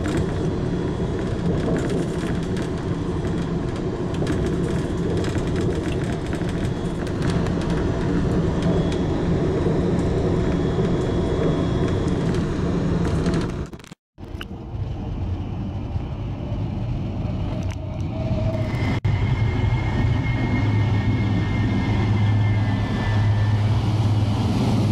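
A train passes through Nürnberg main station at platform 17, producing a long, loud, steady rumble and roar with a brief dip midway before the noise builds again and continues.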